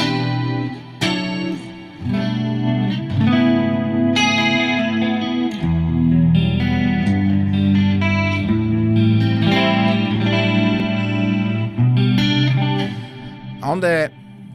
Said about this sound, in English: this sound is very nice, and also I include the Plex Verb block to have more special sound